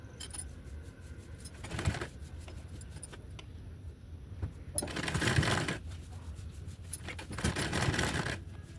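A sewing machine stitches a blouse with flower pieces set in place, running in three short bursts of stitching separated by quieter pauses, with no talking.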